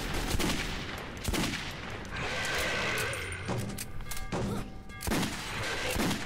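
Gunfire in the video game Metro 2033, a dense run of rapid shots and thuds in a busy underground firefight, loud and continuous with layered game noise.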